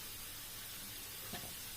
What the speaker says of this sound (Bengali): এদিকে আলুটা ভাজা হতে লাগলো